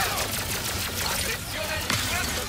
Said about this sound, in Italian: Uno che mi spara.